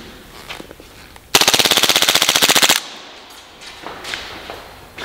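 An airsoft Glock pistol fires a fast burst of about twenty sharp, evenly spaced snaps lasting over a second, loud and close, with quieter handling clicks before and after.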